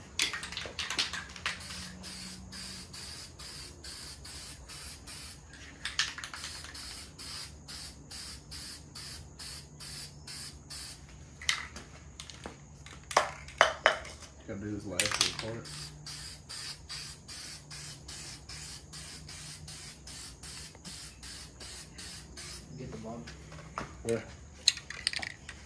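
A spray gun or can lays paint on an Infiniti G37 for a paint match, in many quick, evenly spaced bursts of hissing with a few longer passes, heard up close while people talk intermittently in the background.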